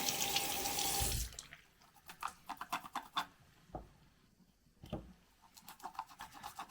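A makeup brush is scrubbed and rinsed under a running tap: a loud rush of water for the first second, then close, quiet bursts of rubbing and scrubbing on a textured cleaning pad, with faint dripping.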